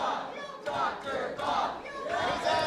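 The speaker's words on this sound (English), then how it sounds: "The crowd is going crazy for Dr. Bob." At a grappling invitational, a crowd cheers and yells in rising and falling waves, with loud surges over constant background chatter.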